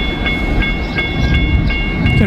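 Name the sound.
freight train passing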